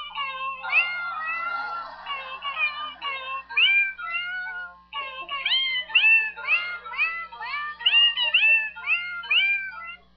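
A recorded cat meows repeatedly, with a long, wavering cry first, then a brief pause and a fast series of rising and falling meows, clear and close over a faint low hum.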